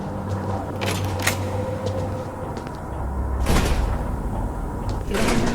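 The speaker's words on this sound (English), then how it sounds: "It automatically locked the doors behind me." Mechanical doors slide shut and lock by themselves in the Broken Pieces video game. Several separate clunks and slides land about two seconds apart over a low, steady room hum, with no voices.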